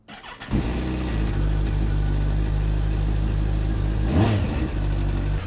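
A 2006 Kawasaki ZX14 sport motorcycle engine catching and settling into a loud, steady close-up idle, with one brief rev swelling and falling near the end.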